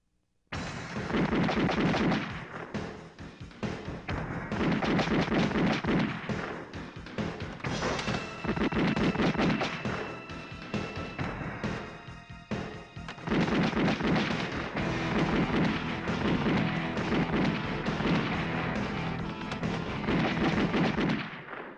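Heavy, sustained gunfire crackles in dense volleys for about twenty seconds, loud and continuous, with only brief dips between bursts and no talking.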